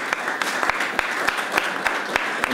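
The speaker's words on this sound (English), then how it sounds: "let's just give a round of applause today" Audience applause for a panel of eminent speakers at an Ayurveda Day 2024 celebration, a steady wash of many hands clapping with a few sharper individual claps standing out, continuous for a few seconds with no talk over it.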